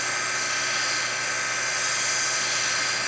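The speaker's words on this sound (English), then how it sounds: "using this edge of the skew just as a scraper, I can get in there and clean something up using it as a scraper" Steady, loud, high whine of a wood lathe with a skew chisel's edge held flat as a scraper against the spinning wood, an unbroken dense hiss and hum through the whole stretch.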